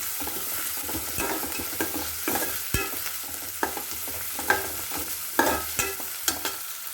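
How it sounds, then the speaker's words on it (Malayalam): Mustard seeds pop and onions with green chillies fry in oil in a pan, a steady sizzle with sharp crackling pops and stirring scrapes, close and without talk. "ചട്ടിക്കകത്തേക്ക് എണ്ണ ഒഴിച്ച് കടുക് പൊട്ടിച്ച് ഉള്ളിയും പച്ചമുളകൊക്കെ കൂടി ഒന്ന് മൂപ്പിച്ച് എടുക്കണം"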